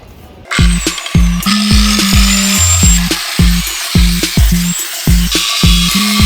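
A power tool cuts into the roughly 1/8-inch steel shell of an air-conditioning reciprocating compressor, grinding loudly and close in repeated short bursts with regular knocking pulses throughout.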